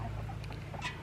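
A Rhode Island Red hen on a homestead gives a few soft, brief clucks, faint and close, over a low steady background hum.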